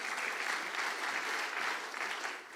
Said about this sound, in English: a big round of applause for Rupeshwar Prabhu